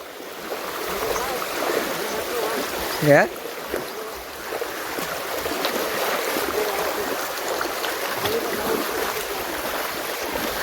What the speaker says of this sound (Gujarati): વધારે પાણી છે આજકાલ તાણ કરે છે જો